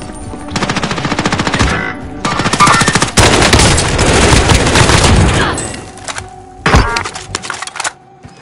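Heavy automatic gunfire in Call of Duty Warzone, long rapid rattling bursts close and loud, pausing briefly before another short volley and a few scattered shots.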